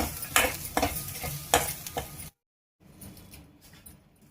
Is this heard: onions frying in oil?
yes